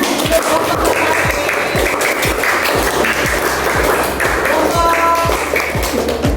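Classroom students clap for a group's presentation, loud and close, with sharp taps and knocks mixed into the clapping and a busy room murmur beneath.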